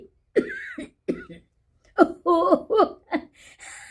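A man imitates the coughing of old people with a run of rough, hacking coughs and throat-clearing bursts, close and uneven, grouped with short pauses between them.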